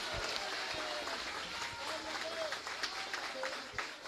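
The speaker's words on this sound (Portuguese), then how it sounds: "Se você crer, dê um aplauso bem forte ao Senhor." A church congregation applauding during a vigil service, a steady wash of clapping heard at some distance over room noise, with a voice faintly present underneath.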